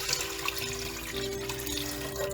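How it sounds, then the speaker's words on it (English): Water runs steadily from a hot tap into a large cooking pot for mutton biryani, a continuous splashing flow with a faint ringing tone, close and unbroken throughout, with no talk. "then we're gonna put 16 cups of water"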